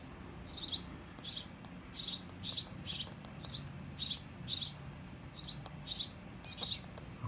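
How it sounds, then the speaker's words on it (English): White-crowned sparrows chirp in quick, bright bursts, about a dozen high tweets spaced irregularly over a soft background hush, fairly close and with no voices. "they get very noisy when a bird comes back"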